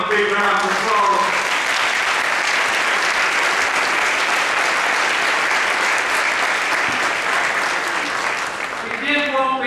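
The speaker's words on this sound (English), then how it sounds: "Let's give him a big round of applause." Loud, dense applause fills an audience at an MLK holiday mass celebration, a steady roar of many hands clapping for nearly ten seconds with crowd noise underneath.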